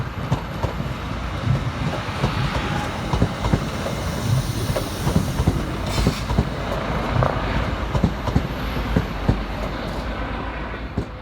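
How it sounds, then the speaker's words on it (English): A Northern class 323 electric multiple unit pulls into Stockport station, a steady rumble of wheels on rail with rhythmic clickety-clack and brief squeals, loud and close throughout with no talking. "Arriving next under stormy skies is 323238, working the 1552 Northern Service from Manchester Piccadilly through to Alderley Edge."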